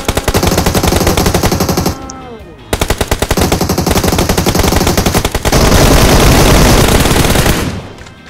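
Rapid automatic gunfire from PUBG Mobile, loud and close, comes in long sustained bursts broken by a short pause and a closing stretch of continuous fire.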